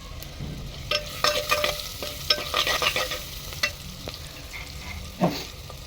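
Onions fry in a pan on a traditional clay stove, giving a soft, continuous sizzle. Repeated scraping stirs sound over it in uneven bursts, with no speech.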